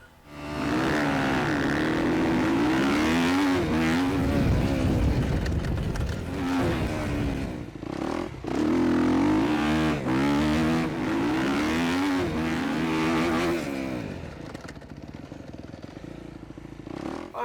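A rally motorcycle ridden hard on loose dirt soil, its engine revving up and down continuously and loudly close by, with gravel clatter and wind buffeting throughout, then easing off near the end.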